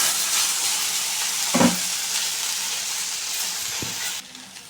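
Okra sizzles steadily in hot oil in a pan while chutney is prepared, with a broad continuous frying hiss, a couple of brief stirring clatters, and the sizzle dropping quieter near the end.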